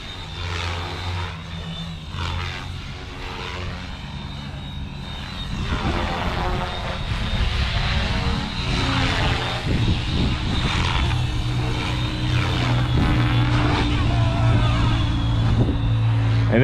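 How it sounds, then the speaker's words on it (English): An FW450 V3 GPS radio-controlled helicopter in flight, with a steady high-pitched motor whine and a whirring rotor. The sound is close and sustained, and it grows slightly louder as the flight goes on. "We can do our normal helicopter flying."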